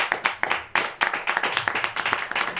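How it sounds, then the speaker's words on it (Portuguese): A church congregation at an Assembléia de Deus service claps in fast, irregular bursts, many hands together creating close, sharp, rhythmic applause with short pauses. "Aplaude uma vez a Jesus Cristo,"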